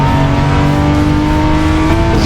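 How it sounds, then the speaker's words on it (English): A little Triumph Spitfire racing car on a circuit holds a loud, steady engine drone close by, with a constant tone throughout and no voices. "This is Jim McNaughton in the little Spitfire, a very pretty little car."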